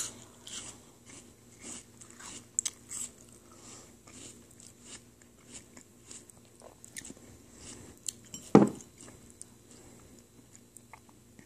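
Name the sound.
eating small bite-sized pieces, crunching and chewing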